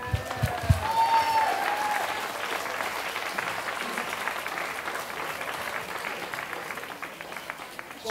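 Audience applause at an outdoor evening concert in a lakeside park, steady clapping from a moderate crowd that slowly thins and fades, with a brief voice and a few sharp knocks near the start.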